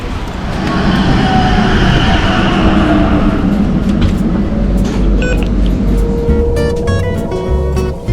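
A tram rides through Venice, Italy, with a loud, steady rumble of wheels and motor heard from on board. Thin metallic squeals and rattles rise toward the end.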